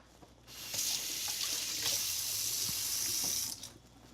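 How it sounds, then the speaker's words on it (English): Tap water runs steadily into a kitchen sink while hands are washed under it, a broad constant rush starting after a brief pause and cutting off near the end, close and alone with no talk. "at this stage, you have to wash your hands."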